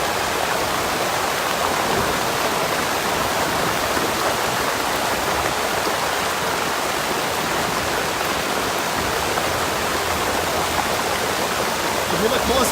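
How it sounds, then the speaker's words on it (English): Floodwater after heavy rain rushes down State Street in Bangor, a loud, steady, dense roar of fast water that runs unbroken from start to finish. "you can hear what is the sound of the water rushing down State Street"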